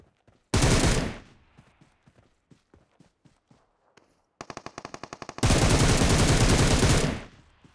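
Automatic weapon bursts in PUBG Mobile: two long, loud sustained sprays of rapid gunfire, a rattle of quicker shots between them, and scattered single shots and footsteps in the quieter gaps.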